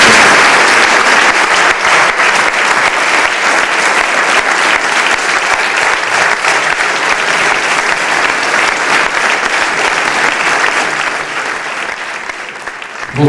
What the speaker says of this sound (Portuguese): eu peço para que eles ouçam lá fora uma enorme salva de palmas